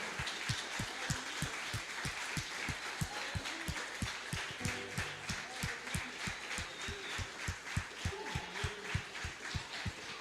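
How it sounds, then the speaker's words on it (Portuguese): A church congregation claps in a steady, rhythmic beat, many hands together at a lively tempo, with a faint murmur of voices and music underneath throughout. "Aplauda o Senhor"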